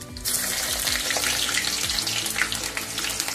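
Whole garam masala and two bay leaves hit hot oil and ghee in a pan, bursting into a loud, dense, continuous sizzle with crackling spatter, close up.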